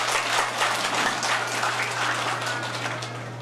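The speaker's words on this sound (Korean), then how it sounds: "박수 쳐주시기 바랍니다." Guests at a wedding ceremony applaud together, a sustained, fairly even wash of many hands clapping with a low steady hum underneath and no voices over it.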